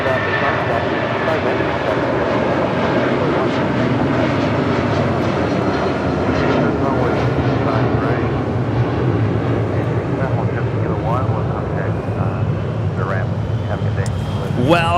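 United Boeing 757-200 airliner in a New York/New Jersey livery passing at Los Angeles International Airport, a loud sustained engine roar with a rising whine, someone talking over it throughout.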